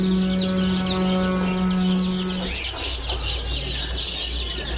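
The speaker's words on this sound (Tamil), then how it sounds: "நம்ம கடையில் கலர் கோழி கொஞ்சம் இருக்குங்க ஓகேவா." Busy sounds of colored chicks in a shop, many small birds chirping and clucking continuously, a steady dense chorus with a low hum underneath.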